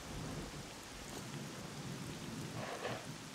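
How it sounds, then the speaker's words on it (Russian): Thunder rumbles beneath steady heavy rain in the S.T.A.L.K.E.R.: Clear Sky video game, a continuous wash of downpour with a rolling thunder swell toward the end, no voices. "Гром."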